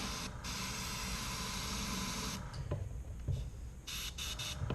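Airbrush spraying red paint into a spray box during a cleaning flush, a steady close hiss that breaks into several shorter sputtering bursts toward the end, with no talk.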